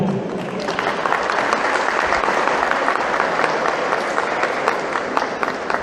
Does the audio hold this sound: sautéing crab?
no